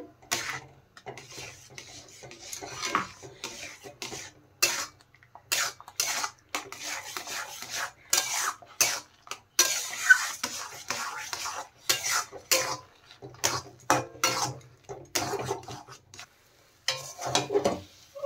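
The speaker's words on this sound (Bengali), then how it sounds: "সুজি দিয়ে দেওয়ার পরে কিন্তু নাড়তে থাকতে হবে।" A spoon stirring semolina in a pot of boiling water, with repeated short scraping and knocking strokes against the pot in an uneven rhythm, fairly quiet and close.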